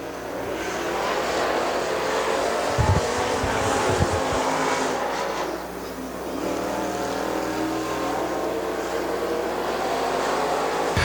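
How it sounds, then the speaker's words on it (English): A crate late model race car roars through a qualifying lap at Dixie Speedway, its loud engine drone holding steady throughout, with a brief dip midway as it passes. "And second out to qualify, Kyle Cochran, car number 83, out of Dallas, Georgia."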